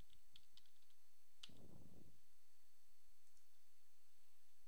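Computer keyboard keys tapped in a few quiet, close clicks at the start, then a louder single click with a brief thud, then near silence.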